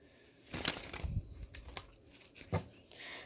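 A few quick papery riffles and snaps as a deck of tarot cards is shuffled, close and soft, in short bursts over a few seconds.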